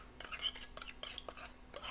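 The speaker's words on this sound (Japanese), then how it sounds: "小さじ2、これをちょっとねかき混ぜときますか。" A spoon clinks and scrapes against a bowl while stirring a seasoning mixture, several quick separate strokes at close range with quiet pauses between them.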